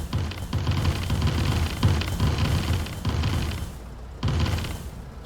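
A vehicle in the video game Factorio crashes through trees, producing a run of repeated dull crunching thumps at an uneven rhythm, fairly loud and close, with no speech.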